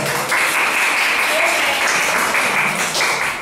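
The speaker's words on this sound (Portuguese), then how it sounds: "Muito bem, palmas para ela." An audience applauds steadily at a training session for teachers, a dense, loud wash of clapping that holds evenly for several seconds with no voices over it.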